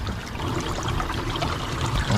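Water gushing and trickling into a car sinking in a flooded river, a steady close rush of pouring liquid with no voices.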